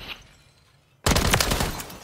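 After about a second of near silence, a sudden loud burst of rapid automatic gunfire erupts in Call of Duty: Modern Warfare 3 and continues to the end.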